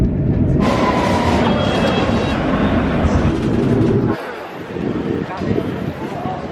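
A train carrying passengers towards London: a steady, loud rumble of the moving carriage fills the ride, then drops to a slightly lighter, uneven rattle partway through.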